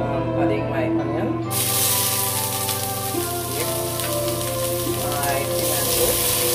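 Chopped onion dropped into hot oil in a pot, sautéing aromatics for a breadfruit oildown: a sudden loud, steady broadband sizzle that starts after a quiet moment and continues with faint kitchen clatter.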